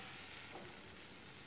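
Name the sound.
sautéing chutney mixture with tamarind in a pan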